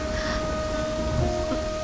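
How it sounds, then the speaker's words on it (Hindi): Steady rain falls through a stormy night with low rumbling underneath, a constant wet hiss and no voices. "इस तूफान भरी रात में"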